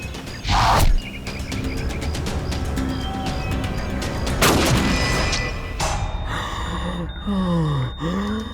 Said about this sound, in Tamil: சேதன், யார் ஃபயர் பண்ணது?